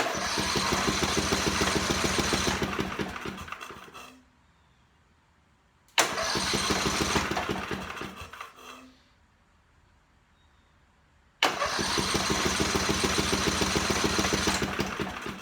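A generator engine being prepared for long-term storage cranks over without starting, pumping synthetic oil through its filter. Three loud, steady cranking bursts of several seconds each are separated by near silence.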